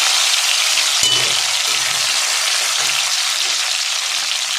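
Cashews and raisins fry in hot spiced oil, giving a loud, steady, close-up sizzle with a few faint clicks of utensils.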